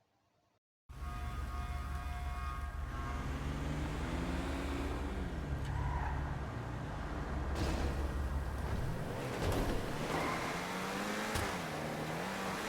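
A Scramjet sports car engine in GTA Online roars steadily, revving and accelerating with rising and falling pitch, loud and continuous with no talking.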